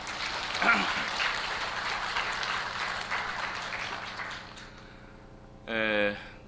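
A church congregation claps for its choir after a hymn, a dense crackle of applause lasting about four seconds before fading, followed by a short burst of voice near the end.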